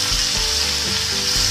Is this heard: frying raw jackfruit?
yes